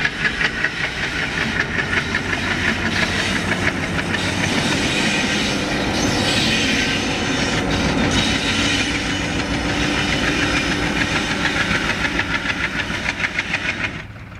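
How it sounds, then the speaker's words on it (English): An AC electric locomotive on test on the Bangalore–Dharmavaram section of Indian Railways passes at close range, with loud continuous rumbling and a steady, rhythmic clickety-clack of wheels over rail joints throughout, and no voices. "AC loco testing on the Bangalore Dharmavaram section."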